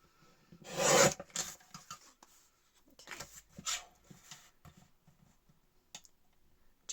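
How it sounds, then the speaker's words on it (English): A paper trimmer slices through paper for a black-and-white themed altered paperclip swap, with a loud rasping cut followed by a few softer scraping strokes, close and with no talk. "I'm just going to get my trimmer and trim that down"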